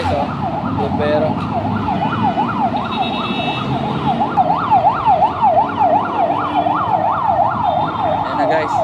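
A fire truck siren wails in a fast, steady up-and-down cycle, loud and continuous over the rumble of road traffic.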